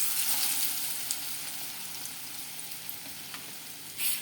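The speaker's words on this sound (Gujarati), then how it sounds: "ત્યાં સુધી આપણે તેલમાં બટાકાને ચડવા દઈશું" Potatoes fry in oil seasoned with turmeric and asafoetida for a bhindi-potato dish. A continuous close sizzling hiss with faint stirring clicks plays alone, with no speech.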